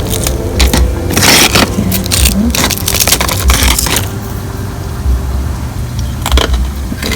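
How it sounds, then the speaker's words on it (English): Fried rice crackers (pappu chekkalu), a Diwali snack, crunch in a series of bursty crisp bites and breaks close by, over a steady low background rumble. "You can hear that crispy, crunchy sound."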